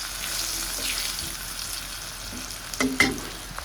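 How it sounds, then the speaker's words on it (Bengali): A steady low sizzle of eggplant frying in oil, followed near the end by a couple of clattering utensil knocks against the pan. "বেগুন ভাজাটাকে করে নিই"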